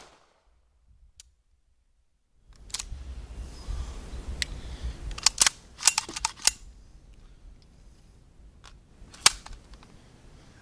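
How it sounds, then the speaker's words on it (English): A Cobray M11 misfires, giving a sharp metallic firing pin click with no shot, followed by several dry clicks and handling rattles at close range outdoors after a brief silence. "Click, no bang."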